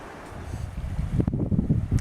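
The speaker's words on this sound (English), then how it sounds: "it's kind of chilly and kind of windy" Chilly wind blows outdoors at a campsite by the water, a rough gusting roar buffeting the microphone that grows louder and more choppy toward the end, with no voices.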